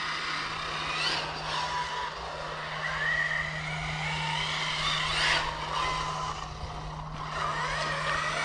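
Losi Super Baja Rey 2 RC car driving on a road, with a steady motor whine and continuous tire noise, plus repeated brief squeals and skids as it corners.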